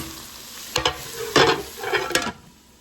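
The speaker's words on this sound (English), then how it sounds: "That way these can go ahead and start sauteing up and getting translucent and soft before we add in our other ingredients." Vegetables for soup sauté in a pot, giving a soft sizzle broken by three short bursts of stirring scrapes. The sound is close and fairly quiet, with no talking.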